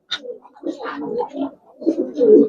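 Giribaz pigeons, coloured and jabra pankhi types, coo in soft, uneven bursts close by, with a few sharper calls between the low murmurs.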